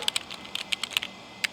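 Computer keyboard typing in The Sims video game, a short burst of light, quick clicking keystrokes in an irregular rhythm, close and clear with no talk.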